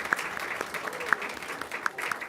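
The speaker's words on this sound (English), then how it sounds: "So big round of applause for our students, 5th and 8th grade from Dos Caminos." A school board meeting audience applauds students, a light, steady patter of hand clapping from a modest room of people, with a few sharper claps near the microphone.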